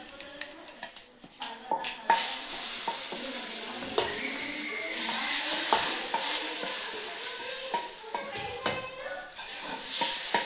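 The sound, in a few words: tempering (tadka) frying and being stirred in a pan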